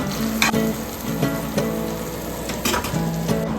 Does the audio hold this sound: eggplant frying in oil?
yes